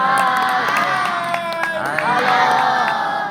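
A school crowd of students at a junior high cheers, shouts and applauds loudly and continuously, with excited voices throughout.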